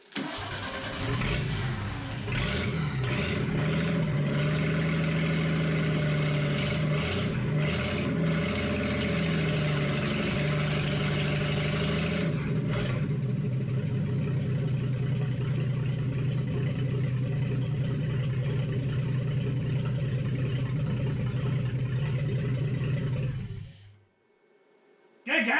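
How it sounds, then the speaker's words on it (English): A freshly built Ford 240 engine in a project truck fires and runs for the first time, starting with rough, uneven revving bursts that settle into a steady, loud, close idle for about twenty seconds before shutting off, with voices audible underneath. "The first time we had ever heard this engine run, and it ran good."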